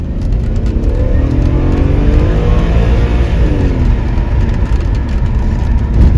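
An Audi S6 C5 sedan with a five-speed automatic accelerates hard in Sport mode, its engine note rising loud and steady for several seconds, with a gear change audible partway through.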